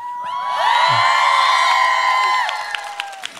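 Jazz concert audience cheering and screaming loudly, with high-pitched whoops from many voices swelling together, holding for about two seconds and then fading into scattered shouts.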